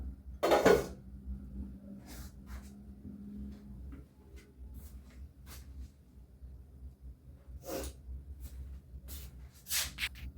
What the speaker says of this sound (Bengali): গ্যাসটা আমি অন করবো বসিয়ে দিলাম ঢাকনাটা তুলে দিলাম